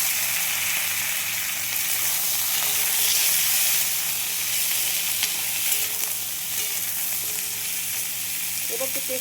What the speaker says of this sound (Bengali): পেঁয়াজ কলিগুলো দিয়ে দিলাম